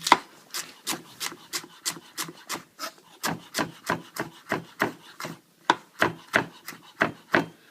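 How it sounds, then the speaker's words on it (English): A knife slicing leeks into strips on a board for leek and potato soup, producing a steady run of sharp, close chopping taps in an even rhythm, about twenty strokes with brief pauses. "what you can do is to cut them into strips again"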